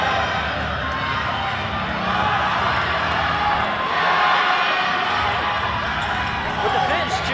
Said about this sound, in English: With the fans cheering, it's kind of hard to hear what they're saying.